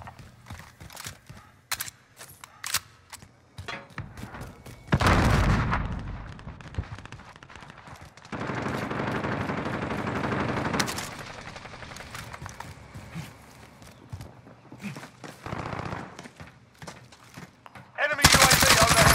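Call of Duty: Modern Warfare gunfire comes in bursts of rapid automatic shots, with loud sustained sections in the middle and a sharp burst at the end, separated by quieter mechanical clicks and movement.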